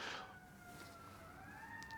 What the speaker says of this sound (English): I don't know if you're hearing it on the mic, but the ambulance is here.